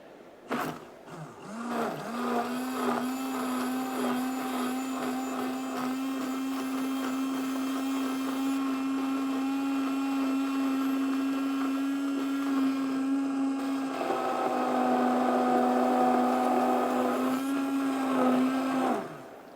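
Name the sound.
blender pureeing a sauce with lemongrass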